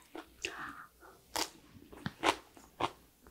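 Crisp, crunchy bites and chewing of fresh, unfermented white kimchi (baek-kimchi) made with sweet napa cabbage, heard as about five close, loud crackling crunches spaced irregularly, with no talking.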